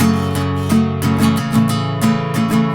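Acoustic guitar chords strummed with the strings muted so they do not ring out, giving short clipped strokes in a steady rhythm of about eight strums, close and fairly loud with no voices.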